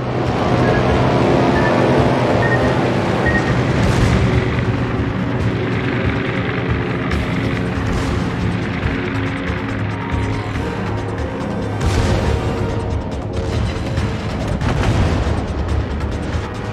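Heavy explosions and a dense, continuous rumble of naval combat in a warship video game as an enemy destroyer is sunk, with several louder booms standing out from the loud, steady din and no talking.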